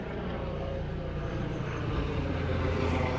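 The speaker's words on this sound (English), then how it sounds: "There's a helicopter." A helicopter passes overhead outside a condo, a loud, steady rotor-and-engine rumble that fills the whole stretch with no break and no talking.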